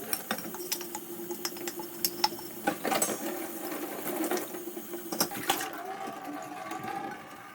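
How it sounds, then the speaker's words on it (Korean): Cabbage rolls simmering in consommé broth in a small home kitchen, a soft continuous bubbling and popping with scattered sharper clicks and rattles, fairly quiet and close. "보글보글 끓고 있습니다"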